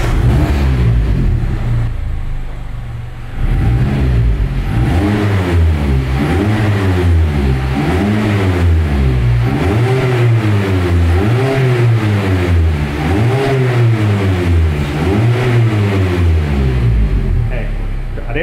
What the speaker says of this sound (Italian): adesso Mirko metti in moto, così sentiamo sempre il suo discorso